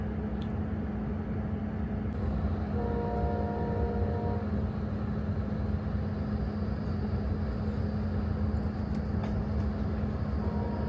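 A Capitol Limited passenger train runs through a big curve, heard from aboard: a steady, loud rumble with a low hum, brief squealing tones and occasional clanks.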